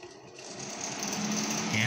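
A power amplifier's cooling fan whirs steadily, with a dense broadband hiss and hum that stays constant and close over the short span, fairly quiet overall.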